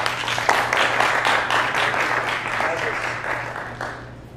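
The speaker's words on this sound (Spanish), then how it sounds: "Un aplauso." A crowd applauds at the Colores del Café event, with sustained, even clapping from many hands, moderately loud and steady, and a low hum running underneath.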